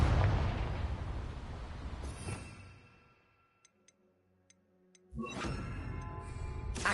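A Confringo fire spell explodes in the game Hogwarts Legacy, a loud booming blast that rumbles and fades into near silence with faint ticks, then a second heavy burst erupts.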